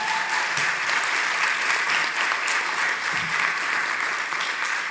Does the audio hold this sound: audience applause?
yes